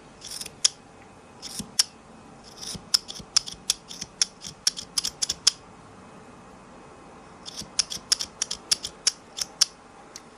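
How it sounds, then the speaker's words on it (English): Scissors snipping through tassel threads, a quick run of crisp close-up cuts, then a pause, then another rapid series of snips, with no talking. "So now comes the fun part of cutting all the threads."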